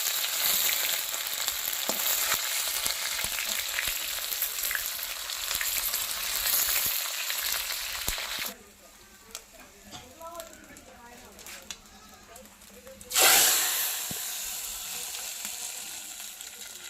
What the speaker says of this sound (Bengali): 5 ফোড়ন, শুকনো লঙ্কা, তেজপাতা এসব দিয়ে ফোড়ন দেব